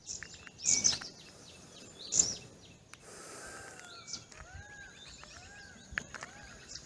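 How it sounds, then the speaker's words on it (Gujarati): Two loud, harsh peacock calls ring out a second apart, followed by quieter chirps and whistles from other birds in an open outdoor setting in Gir Forest near Sasan, Gujarat. "મોરના ટહુકાઓ"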